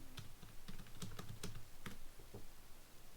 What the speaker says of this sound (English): I guess I'm just gonna type it in the chat.